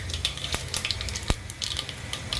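Cumin and white sesame seeds sizzle in hot oil with a soft, steady crackle and scattered sharp pops, close and fairly quiet, with no talking.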